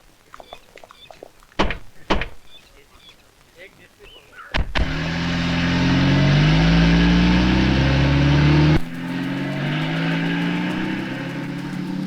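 Steady car engine rumble runs loud through the middle of the clip after a couple of door-like thunks and some talk, then drops to a quieter idle near the end.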